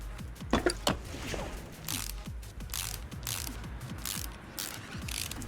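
A wrench works on bolts of an American WWII jeep in Car Mechanic Simulator, giving rapid, rhythmic ratchet clicks and whirring gear sounds in quick repeated bursts, close and clear, with no voices.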